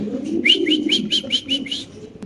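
Black fancy King pigeons coo in a run of about seven rhythmic, close calls over a steady low murmur of background noise.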